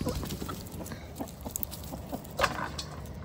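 Chickens cluck softly in a loose, irregular series of short calls, close by and fairly quiet, with a faint scratchy background.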